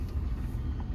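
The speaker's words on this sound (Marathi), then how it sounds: "मजबूत ट्रॅफिक मध्ये अडकलोय." A low, continuous rumble of heavy road traffic on a busy Pune street near Tulshibaug, steady and moderately loud, with no voices.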